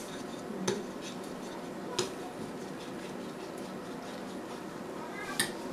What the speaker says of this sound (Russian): добавляю муку и помешиваю